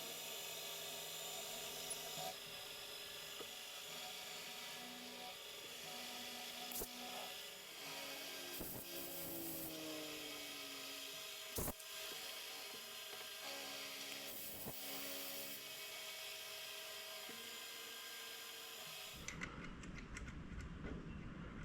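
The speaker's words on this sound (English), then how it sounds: "Now I'm going to swap over to a 5mm end mill and open up this centre portion between the 2 drilled holes." A 5mm end mill cuts a slot between two drilled holes in a Hemingway die holder, with a continuous machining whine and scraping cut that shifts now and then. It stops abruptly near the end, leaving quieter shop noise.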